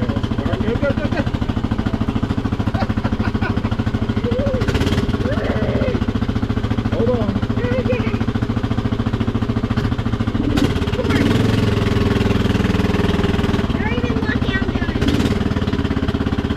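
A blue golf cart's engine drones steadily and loudly throughout as it drives, with people talking and calling out over the running motor.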